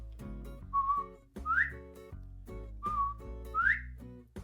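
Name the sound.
whistled imitation of a quail call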